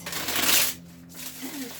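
A short burst of tarot cards being riffled and shuffled, a crisp papery rustle up close, then settling into quieter handling.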